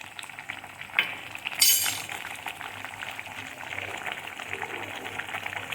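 Kurma gravy for chapathi bubbles and sizzles gently in a pot, with a couple of sharp metallic clinks from a utensil early on.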